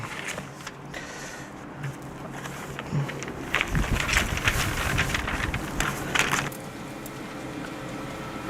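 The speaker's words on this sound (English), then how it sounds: "So windy today." Gusty outdoor wind buffets the microphone beside a Pit Boss Navigator pellet grill cooking pork ribs, a steady broadband rush that swells louder in the middle with rustling bursts, no talking over it.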